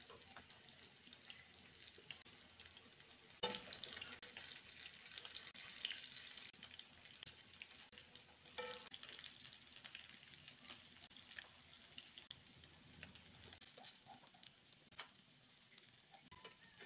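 Stuffed bitter gourd (rellenong ampalaya) frying in hot cooking oil, a steady soft hiss and crackle running throughout with scattered faint pops, fairly quiet and without any voices.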